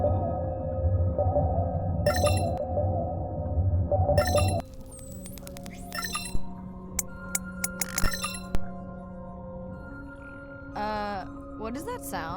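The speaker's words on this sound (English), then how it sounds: "I've deployed acoustic modems to transmit from other sensors" Acoustic modem sonar pings in the underwater game Beyond Blue: sparse metallic clinks and tonal pings over a low hum after an initial droning tone, ending with a warbling sweep; fairly faint, no speech.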